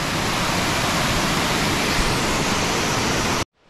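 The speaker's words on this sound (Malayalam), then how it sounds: "ഇവിടുത്തെ ഒരു ചെറിയ വെള്ളച്ചാട്ടം കേട്ടോ." A small waterfall in the flood-affected Pala area roars nearby as a dense, steady rush of falling water that stops abruptly at the end.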